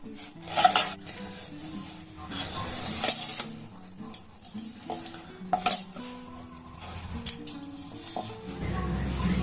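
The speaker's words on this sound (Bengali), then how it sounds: "একটা চামচ দিয়ে এইভাবে মিশিয়ে নিতে হবে ভালো করে এইভাবে মিশিয়ে নেবেন" A spoon works laddu mixture in a metal bowl, making irregular scraping, clinks and knocks against the sides, close by and uneven in loudness.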